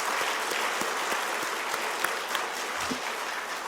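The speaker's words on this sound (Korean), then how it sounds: "우리 하나님께 감사의 박수를 한번 치겠습니다." A church congregation applauds during a Sunday service, filling the room with steady, dense clapping that holds at an even level from start to finish.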